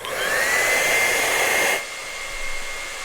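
A hair dryer blows steadily on acrylic paint on a canvas, a loud continuous whirring rush with a rising whine that cuts off sharply after about two seconds, leaving quieter room noise.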